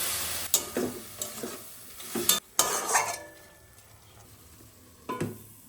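Spinach and mixed vegetables crackle as they fry in a pan, with a cluster of clattering stirs and scrapes of a utensil against the metal early on, then quieter sizzling and one final scrape.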